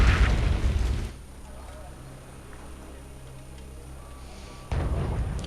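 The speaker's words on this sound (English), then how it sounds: "Artillery's coming down hard." Artillery strikes in the war game Wargame: European Escalation, with two loud, close, rumbling booms, one at the start and one at the end, separated by a quieter stretch of low engine drone.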